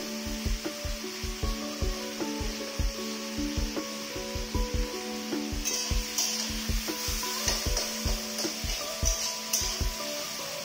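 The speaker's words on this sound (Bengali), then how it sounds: "এখন আমি পেঁয়াজ, টমেটো, গোলমরিচ, লবঙ্গ, এলাচ সব কিছু দিয়ে শুধু লাল লাল করে এখন আমি ভেজে নেব।" Onion, tomato, black pepper, cloves and cardamom fry lightly in a pan, a soft steady sizzle under regular scraping stirs of a utensil against the pan, close and continuous.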